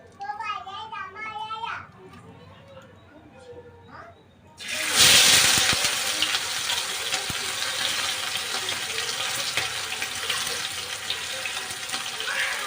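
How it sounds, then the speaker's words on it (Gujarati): Palva fish sizzling as it is dropped into hot oil, a sudden loud burst of crackling frying that keeps going steadily, after a short stretch of children's voices and faint kitchen clatter. "હવે આને આપણે આમ નામ ઘડીક ફ્રાય થવા દઈશું."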